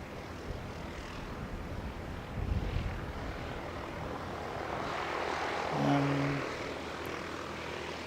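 ATR turboprop airliners on the ground at Canterbury in strong wind, their propeller engines giving a faint, distant, steady drone mixed with gusty wind noise, with a brief low thump near the start and a short tonal whine later.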